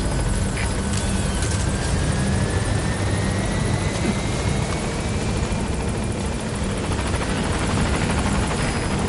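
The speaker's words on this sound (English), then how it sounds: "Go ahead and call the chopper from your iDroid." A helicopter arriving at a landing zone in a PS4 video game: a steady, loud rotor and engine roar that holds throughout, with no speech.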